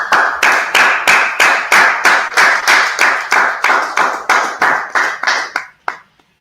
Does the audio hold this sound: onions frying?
no